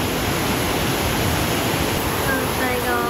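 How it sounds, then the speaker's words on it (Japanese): Small waterfall in a retro hot spring town, a steady, full rushing roar of falling water, close and continuous with no pauses. "小さな滝があって、これがすごいいい音。"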